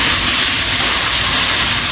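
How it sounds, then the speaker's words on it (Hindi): Masala spices frying in a pan for aloo bhindi make a loud, dense, unbroken hissing sizzle that fills the whole moment without pauses. "आप इस सारे मसाले को अच्छे तरीके से हम भुनाई करेंगे"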